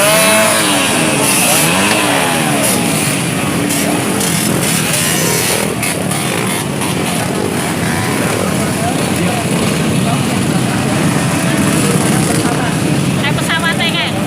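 An off-road vehicle's engine drones loudly and steadily throughout, rough and rasping like a small motor revving, with people talking underneath at times.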